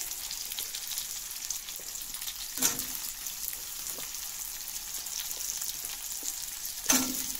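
Potato, teasel gourd and fish curry frying in a pan, a steady soft sizzle with occasional stirring scrapes and two brief louder clatters, no talking.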